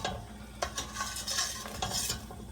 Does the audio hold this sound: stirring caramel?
yes